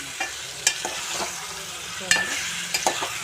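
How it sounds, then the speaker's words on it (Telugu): Chunks of taro root are stirred into a simmering curry in a pan, with scattered spoon scrapes and knocks over a low, steady sizzle and no talking. "చామదుంపలన్నీ కూరలో పెట్టుకొని బాగా కలుపుకోవాలి"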